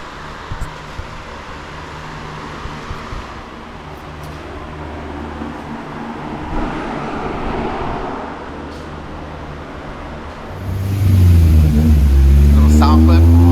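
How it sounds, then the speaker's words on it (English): A Honda Civic EK with a B16A engine idles with a low, steady exhaust drone while a person talks, then the exhaust swells into a loud, deep rev near the end. "Little sound clip on the exhaust"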